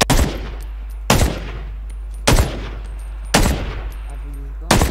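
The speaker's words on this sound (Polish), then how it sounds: "To jest strzał." Gunshots in the video game Ring of Elysium, five sharp, loud single cracks spaced about a second apart, each trailing into a short decaying echo over a steady low hum.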